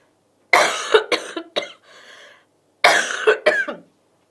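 A close, loud fit of coughing: several harsh coughs in quick succession, a short wheezy breath, then another burst of coughs.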